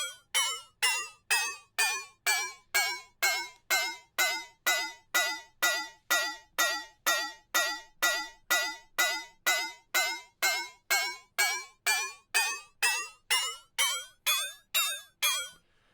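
Pitch-automated percussion sample programmed in FL Studio for a tech house track, repeating as a fast, even run of short pitched hits that dip and rise in a U-shaped sweep, alone and clear throughout.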